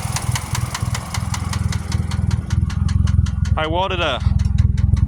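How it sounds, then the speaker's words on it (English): A 2001 Pontiac Grand Am with a 2.4 engine runs with a misfire and a cherry bomb muffler welded on, idling in a loud, steady, uneven pulsing rhythm up close while someone talks over it. "You can tell it's got a misfire still."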